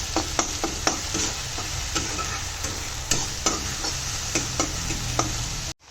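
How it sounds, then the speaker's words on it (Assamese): Spice paste and onions frying in a pan for an Assamese fish curry, a steady close sizzle broken by sharp clicks and scrapes of stirring, with no talking. "গোটেইখিনি দি পেলাই ভালদৰে ভাজি ল'ম।"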